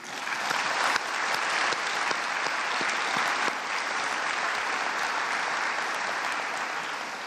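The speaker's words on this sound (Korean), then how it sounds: "함께 박수 한번 드리겠습니다." A large audience at a ceremony honoring war veterans claps steadily and continuously, a dense wash of applause with no talking over it.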